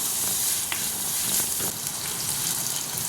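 Shallots, crushed garlic and curry leaves sizzle steadily in a hot pan, a continuous close frying hiss with a few faint stirring clicks and no voices.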